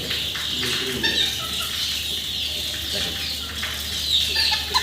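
A small, fully grown fancy chicken clucks at a farm in short, close bursts over a low, steady background hum.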